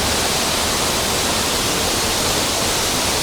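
Rushing water at the Pulang Bato waterfall in the Philippines, a steady, dense, loud roar that holds unbroken and fills the whole stretch with no voices.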